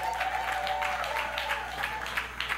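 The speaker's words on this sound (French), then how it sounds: "Nous acclamons le Seigneur pour les anciens." A church congregation claps together in a brief burst of applause, dense and close, lasting a couple of seconds.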